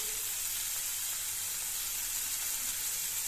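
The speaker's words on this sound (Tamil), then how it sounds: "நூறு கிராம் அளவுக்கு சின்ன வெங்காயம் நல்லா வதக்கிக்கணுங்க" Small onions sauté in a pan for a bitter gourd fry, giving a faint, steady sizzling hiss throughout with no talking.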